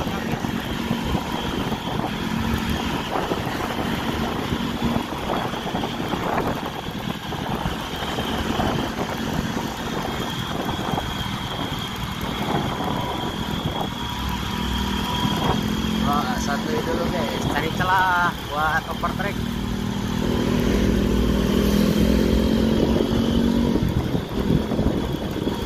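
A Budiman bus overtakes on the road at night, heard as a steady engine drone with road rumble that grows slightly louder toward the end, with a person talking throughout.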